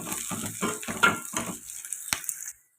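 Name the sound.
onions frying with curry leaves for chicken curry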